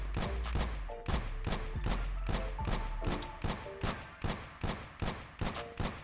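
Rapid bursts of gunfire from the video game Warzone, a dozen or so sharp repeated shots in quick rhythm, loud and close, with no talking over them.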